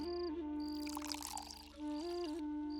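Water is poured into a glass to mix a drink, a faint, brief splashing trickle under a sustained music bed.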